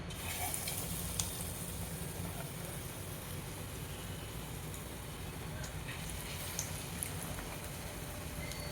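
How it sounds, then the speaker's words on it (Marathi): Chili bhajis (battered green chilies) deep-frying in hot oil, a steady, continuous sizzling hiss with faint crackles and pops throughout, fairly close and without talk. "मिरचीची भाजी सुद्धा तळून झालेली आहे."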